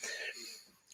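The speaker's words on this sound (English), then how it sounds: "So let me just clear my throat." A man clears his throat once, a short rasping burst followed by a softer tail and a small final catch, close to the microphone.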